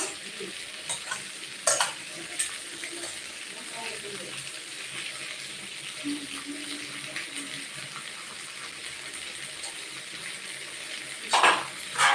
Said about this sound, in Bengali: মশলাটা এবার কষিয়ে নেব ভালো করে চিকেনের সাথে